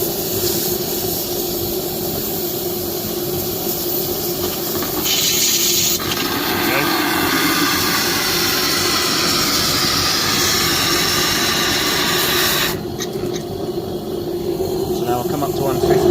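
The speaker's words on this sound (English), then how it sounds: "I usually just give it a little bit of steam now." Steam fed through the injector of a homemade high-pressure boiler, a continuous loud hissing rush that shifts in tone as the flow changes, steady throughout with no clear talk over it.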